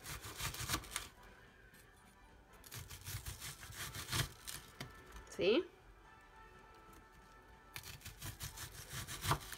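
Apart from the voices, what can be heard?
knife cutting a vegetable for salad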